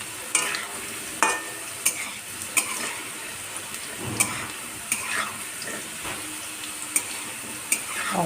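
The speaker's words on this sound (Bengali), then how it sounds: "এই আলুটা এখন একটু ভাজা হয়ে যাক" Potato pieces fry in oil in a pan, giving a soft continuous sizzle broken by sharp scrapes and clinks of a spatula stirring against the metal at irregular intervals, close and quiet.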